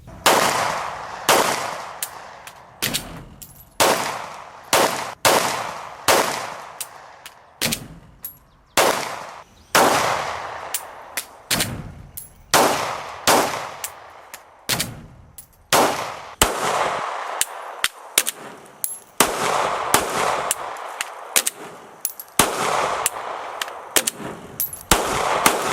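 A CZ P10F OR optics-ready pistol fired during testing, loud close shots in quick strings and spaced singles, dozens in all, with short pauses between groups and no talk.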